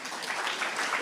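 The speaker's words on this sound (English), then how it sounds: "Let's give you another round of applause" Conference audience claps in a brief, even burst of applause, fairly soft and moderately distant, with no speech over it.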